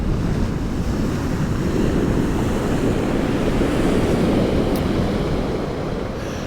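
Big sea waves break and roll on the beach at Kilnsea on the UK east coast, a loud, steady wash of surf with strong wind buffeting the microphone throughout, no voices present.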